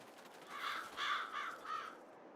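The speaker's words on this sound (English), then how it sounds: "Scared the crows then." Crows cawing in the Farming Simulator 22 farming game: a quick series of four or five harsh caws, faint and somewhat distant, over a soft ambient hiss.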